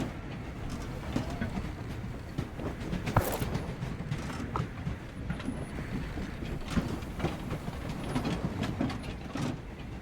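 A moving train in the video game Voidtrain rumbles and creaks steadily, with a low mechanical drone and scattered rattling clanks carrying on throughout without pause.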